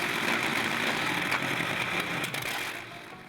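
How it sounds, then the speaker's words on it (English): Liberty aircraft engine running in the boat Liberty II on Coney Lake, a loud, steady, rough roar that holds evenly, then fades slightly at the end. "The Liberty engine"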